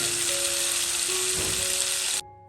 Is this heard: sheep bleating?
no